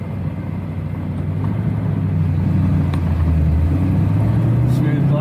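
A 1965 Ford Mustang convertible engine on the road during a downshift, a steady loud low rumble that climbs slightly in pitch toward the end, with no voices over it.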